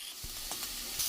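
Masala frying in a pan for a Bengali chorchori with mustard paste, pressed down as it cooks. A low steady sizzle runs throughout, broken by a few soft scraping presses and a brighter crackle at the end, with no one talking.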